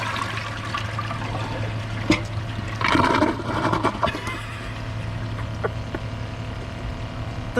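Kohler Class 5 toilet flushing with a loud rushing surge of water, then gurgling and trickling as the bowl drains, heard alone with no talk.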